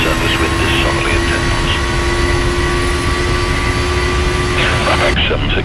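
Boeing 737 jet engines spooling at takeoff thrust in a flight simulator cockpit, a steady loud roar with constant whine tones throughout, ending with a brief drop.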